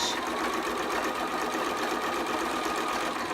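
A sewing machine runs steadily and close by while sewing a back stitch, a continuous even whirring chatter that holds the same level throughout with no voices.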